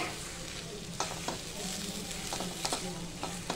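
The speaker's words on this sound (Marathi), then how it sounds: "छानपैकी परतून घ्यायचा दोडका असा मसाल्यामध्ये." Ridge gourd sautéing in spice masala sizzles steadily in the pan, broken by several distinct scraping stirs of a spoon, close and alone with no talk.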